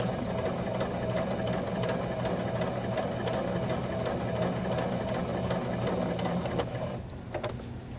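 A sewing machine runs a steady stay stitch along a second shoulder seam at half an inch, its needle chattering in a fast, even mechanical rhythm up close, easing slightly near the end.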